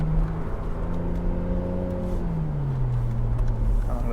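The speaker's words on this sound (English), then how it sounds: "You hear that downshifting because it's in sport mode." A Mercedes SL400 downshifts in sport mode while driving, the engine note dropping and sliding in pitch through gear changes under steady road and wind noise, heard from inside the car.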